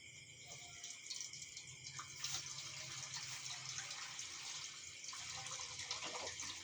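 Broth pours steadily into a pot for sinigang with salmon head and shrimp, a continuous close splashing gush of liquid lasting several seconds, no talk over it.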